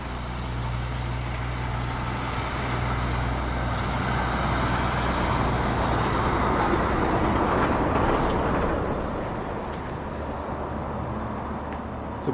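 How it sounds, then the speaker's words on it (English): A road train truck rumbles past in the Australian outback, its engine roar swelling to a peak midway and slowly fading, steady and fairly close. "Here comes old mate with the road train."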